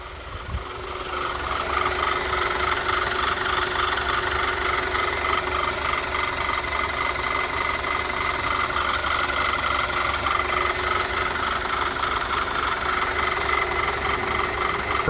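Close, steady idle of a 2009 Audi A4 turbo engine following an engine flush: an even, unbroken mechanical drone with a light rhythmic tick, lasting about fifteen seconds with nobody talking.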